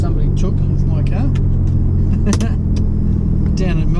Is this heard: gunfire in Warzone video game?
no